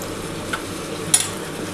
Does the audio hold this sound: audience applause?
no